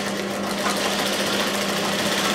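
A sewing machine stitches a blouse, running at steady high speed with a continuous close, rapid mechanical whirring hum; no talking.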